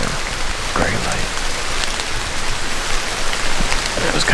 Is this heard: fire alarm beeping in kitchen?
no